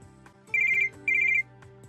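A telephone ringtone rings for an incoming call in a quiet room, two clear electronic bursts with a short gap between, over a faint steady background tone.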